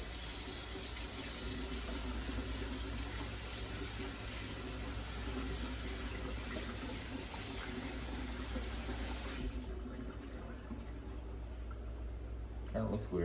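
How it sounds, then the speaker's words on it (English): Cold tap water runs steadily over quinoa in a wire mesh strainer at a kitchen sink, a continuous hissing stream that cuts off near the end, followed by a few faint clinks. "And just run it under water for a little while to rinse it off."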